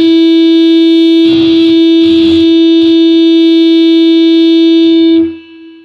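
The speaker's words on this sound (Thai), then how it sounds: "มาลองเสียงแตกกันดีกว่าโอเค" A distorted guitar tone through an iRig Acoustic Stage rings as one loud sustained pitched drone with bright overtones, feedback-like. Short rough bursts cut in over it before it drops away near the end.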